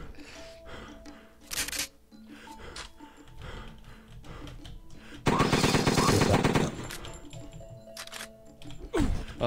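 Rapid bursts of video game gunfire from XCOM 2, a loud sustained rattle in the middle with scattered shorter shots around it, over background game sounds.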